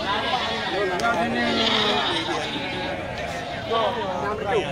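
Etawa crossbreed goats at a sale bleat a few times, wavering calls rising near the end over steady crowd chatter and background bustle.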